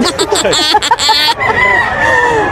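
A rooster crows loudly and close, a long drawn-out call following choppy clucking bursts from a gamefowl pen.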